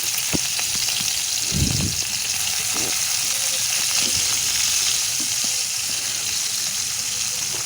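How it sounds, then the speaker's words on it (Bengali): Pre-cut cauliflower frying in hot oil for mixed chowmein, a dense, steady hiss of sizzling oil up close, with a brief low rumble early on and a few soft knocks from the pan. "এবার ওই তেলে আগে থেকে কেটে রাখা ফুলকপিগুলোকে দিয়ে দিচ্ছি।"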